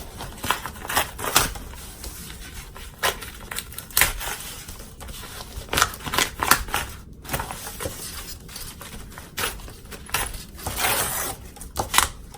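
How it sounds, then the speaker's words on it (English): Tape and stabilizer being peeled off a sewn zipper bag, a steady close run of crinkling, tearing and crackling with frequent sharp snaps and no speech. "we're going to go ahead and just take all the tape and stabilizer off"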